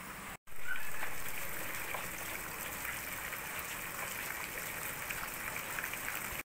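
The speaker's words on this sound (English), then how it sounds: "It's raining, still raining." Steady rain falls outdoors in the Philippines, making a dense, even hiss of drops that continues unbroken, moderately loud, with no talking.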